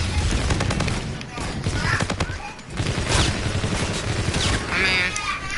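Rapid gunfire from Call of Duty: Infinite Warfare's zombies mode crackles in dense automatic bursts, loud and close, with a shouting player voice over the shots.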